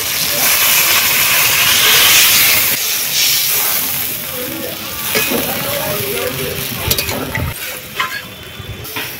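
Water hits a hot pan of sautéed mustard-poppy spice paste for a snakehead fish curry, setting off a loud, broad sizzling hiss that swells at first, then settles into steady bubbling and steam with a few clinks.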